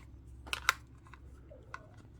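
A dash camera snaps into its windshield mount with a quick pair of sharp plastic clicks, followed by a fainter single click against a quiet background.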